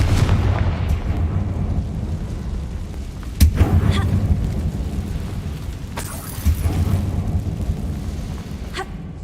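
A Confringo blasting spell goes off in a video game, producing loud, rumbling booms over a continuous low roar, with sharper blasts striking around the middle and again near the end.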